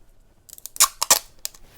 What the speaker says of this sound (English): I'm going to use my scissors actually, it's a bit easier.